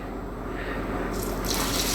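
Water pours steadily into a pot of oats, a continuous close splashing rush that brightens toward the end.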